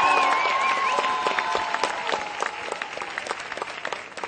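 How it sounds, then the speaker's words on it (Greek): Studio audience on a Greek game show breaks into loud applause, dense close clapping that starts strong and gradually thins out, with a musical sting fading under it. "Ένα δυνατό χειροκρότημα"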